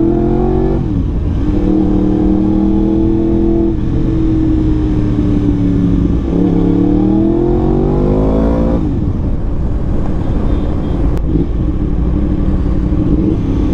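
A Yamaha R1 sport motorcycle engine roars loudly and continuously during a ride, its pitch rising and falling as it revs through gear changes, with no talking.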